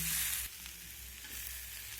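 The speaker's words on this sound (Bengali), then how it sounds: "সব কিছু নাড়াচাড়া করে মিশিয়ে নেওয়ার পর এখন আমি এর মধ্যে দিয়ে দেবো ভেজে রাখা চিকেন" Fried chicken pieces stirred into a filling in a hot pan, giving a steady, close, crackling sizzle through a short stretch with no talking.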